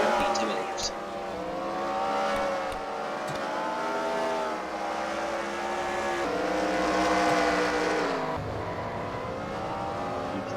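Race cars circling a short oval track at a night racing event, a loud continuous engine drone with rising and falling revs as cars pass and accelerate, with a commentator talking over it.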